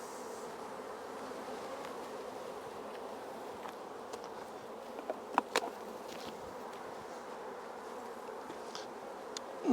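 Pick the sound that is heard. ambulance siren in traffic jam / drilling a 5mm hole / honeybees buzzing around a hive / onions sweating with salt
honeybees buzzing around a hive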